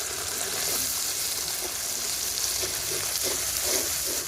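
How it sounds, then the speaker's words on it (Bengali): A spice paste of turmeric, ginger, cumin, coriander and chilies sizzles loudly in a pan with a little coconut milk for a duck egg curry. The frying is continuous and close, with light stirring scrapes. "সামান্য একটু নারকেলের দুধ খুব ভালো করে কষিয়ে নেব মশলা"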